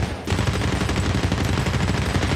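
Dense automatic gunfire in the shooter game Medal of Honor: Warfighter rattles almost continuously, rapid loud bursts overlapping into a sustained barrage close by.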